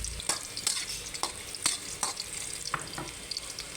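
Onion, garlic and vegetables sautéing in hot oil in a hot wok, with a steady low sizzle and repeated sharp stirring scrapes and clicks of a utensil against the pan, close and fairly quiet.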